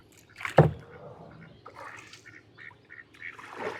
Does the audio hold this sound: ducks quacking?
yes